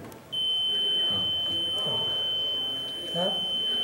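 A steady high electronic beep from an EVM VVPAT voting machine sounds continuously for several seconds after a vote is cast, with people talking faintly in the background.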